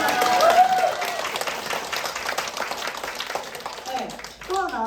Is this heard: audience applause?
yes